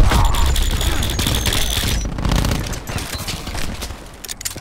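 Cluster grenade detonating in the video game Black Ops 4, a dense fusillade of rapid overlapping blasts and crackling bursts, loud and sustained throughout, tapering into scattered pops near the end.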